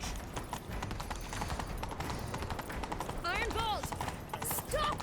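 Rhythmic hoofbeats of galloping horses in The Witcher 3: Wild Hunt, dense and continuous, mixed with a busy scene and brief voices over the top.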